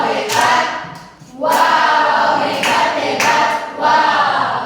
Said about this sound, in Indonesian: Oke, tepuk hebat.